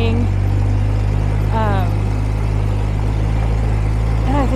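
An ATV engine idles and drones steadily on Chris Mountain Trail in the San Juan National Forest, a loud low continuous rumble filling the whole stretch while people talk briefly over it.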